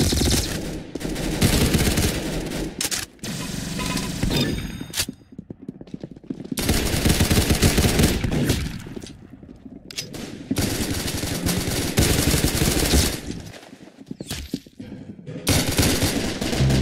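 Rapid bursts of automatic gunfire from a video game shooter, loud and close, with repeated volleys separated by short pauses over a dense game soundscape.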